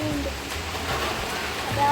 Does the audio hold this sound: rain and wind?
yes